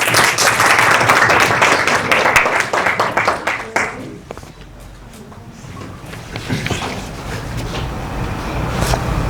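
Audience applause for the first runners-up at the final day of a digital marketing skills program, loud steady clapping for about four seconds, then fading into scattered claps and room noise before picking up again.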